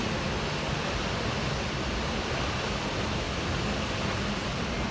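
Constant, dense roar of rushing water from a nearby waterfall in Antalya, loud and steady, with no breaks or voices.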